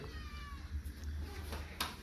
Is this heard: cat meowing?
yes